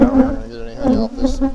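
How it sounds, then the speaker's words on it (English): Honey bees hum steadily around a hive in a continuous, close, loud drone with a slightly wavering pitch. "there are some bees up here"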